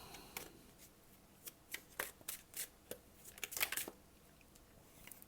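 Cards from a Morgan's Tarot deck are shuffled and drawn by hand, making a close, quiet run of crisp riffles and flicks in uneven bursts against a soft room hush.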